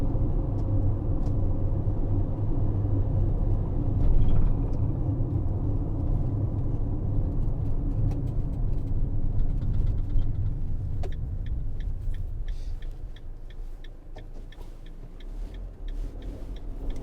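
Low rumble from the cabin of a 2019 Citroen Relay 2.2 BlueHDi L2 H2 van on a bumpy road, engine drone mixed with steady road noise and scattered light rattles and ticks that grow more frequent toward the end.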